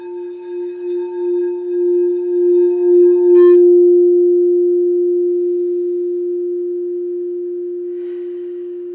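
A singing bowl rings with a struck tone that swells, then a long, pure, steady hum that slowly fades over several seconds, heard alone and close.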